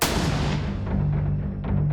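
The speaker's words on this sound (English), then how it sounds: "She just heard a gunshot." A gunshot sound effect in a crime documentary reenactment of a nighttime killing, set as a loud, sustained low boom and rumble that fills the whole moment without speech.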